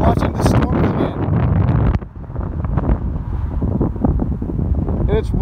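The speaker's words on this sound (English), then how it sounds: "And it's windy as fuck." Strong wind buffets the microphone in a loud, continuous roar, with heavy low rumbling gusts throughout, on a mountain at Big Bear Lake, California, as a storm comes in.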